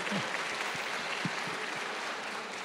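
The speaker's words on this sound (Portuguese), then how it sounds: "É isso aí, vamos aplaudir." Audience applause at a school summit event, steady clapping filling the room, with faint voices underneath.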